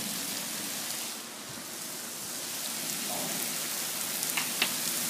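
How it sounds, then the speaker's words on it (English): Heavy rain pours steadily in a dense, loud hiss, with a few sharper drips and splashes near the end. "Gosh, this rain is so hard."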